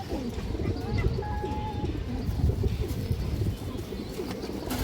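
Pigeons, pure silver squabs among them, give low, soft coos at close range under a voice talking.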